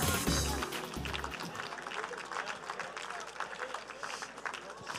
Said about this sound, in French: Applaudissons bien fort ces grands ambassadeurs de la profession.